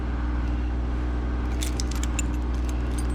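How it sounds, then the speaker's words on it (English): Original BMW 2002 car keys with the BMW logo jangle together in a bright metallic jingle over a steady low hum, the clinking picking up halfway through. "Yeah, I've got the original keys."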